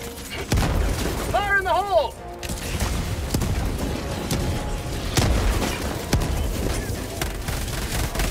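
A grenade explosion in Helldivers 2, booming close by amid ongoing gunfire and battle noise, with a shouting voice and a rising whistle-like tone early on.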